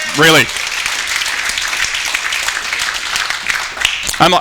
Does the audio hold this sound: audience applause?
yes